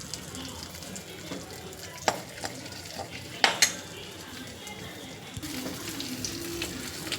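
Gongura chutney being tempered with mustard seeds and cumin, a light sizzle under scattered clinks and taps of a spoon on the pan, with a few sharper knocks partway through.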